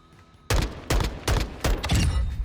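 Single-fire gunshots on the Modern Warfare II firing range in a video game, four loud, evenly spaced shots roughly every 0.4 seconds, each with a sharp crack and a short decaying tail.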